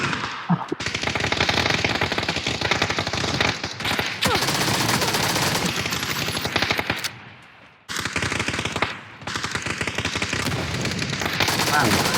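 PUBG match with loud, sustained automatic gunfire in rapid bursts, a short break near the middle, then more continuous firing; a player's voice talks over the shooting.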